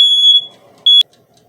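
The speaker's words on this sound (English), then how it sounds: "I have a fire alarm right above my head. And every time I do this, it will go off." A smoke alarm mounted above a kitchen oven sounds loud, piercing high-pitched beeps: one long tone, a short gap of faint background noise, then a second shorter beep ending abruptly.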